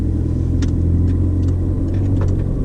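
A car on a driving test route around the Marston loop in Oxford moves off, its engine a steady close rumble inside the cabin, with a few faint clicks over the top and no talking.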